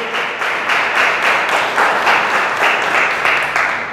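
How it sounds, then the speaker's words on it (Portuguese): A church congregation breaks into rhythmic applause during a sermon, a loud, steady run of clapping pulses lasting several seconds with no talk over it. "diga amém e aplauda o Senhor."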